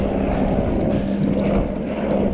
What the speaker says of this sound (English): There goes a helo leaving Gorak Shep.